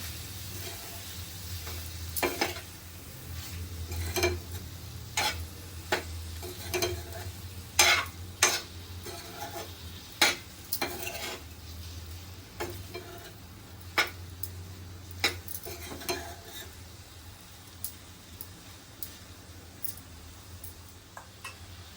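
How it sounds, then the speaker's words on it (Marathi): A spoon repeatedly scrapes and stirs through garlic prawn masala sizzling in a pan after salt is added, with steady frying hiss and regular metallic scraping strokes, close and fairly loud. "चवीनुसार मीठ घालायचं आहे चांगलं मिक्स करून घेते"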